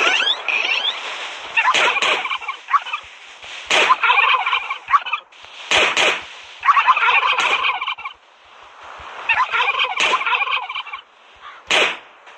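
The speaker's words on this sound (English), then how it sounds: "So I have to catch chickens." Chickens in the survival game Last Day on Earth cluck in repeated bursts of about a second each, separated by short pauses, each burst marked by a sharp onset, sounding close and clear with no talk.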